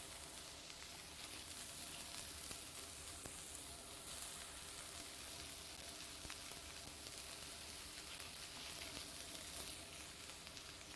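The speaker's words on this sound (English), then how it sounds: "hear that beautiful sound of onions cooking" Quiet, steady sizzling and crackling of onions frying in a pan, continuous and even with no talking.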